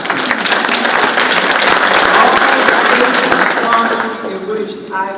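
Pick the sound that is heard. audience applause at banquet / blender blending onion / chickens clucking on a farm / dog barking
audience applause at banquet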